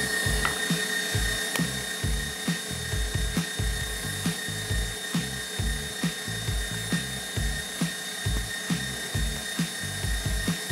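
A kitchen mixer whips meringue with sugar, its loud, steady motor whine beating in a fast, even pulse that runs through the whole stretch, with no talking over it.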